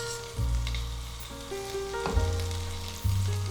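Butter shrimp fry in a pan with sesame oil, a steady loud sizzle with crackling that swells as pieces are laid in, running continuously without talk.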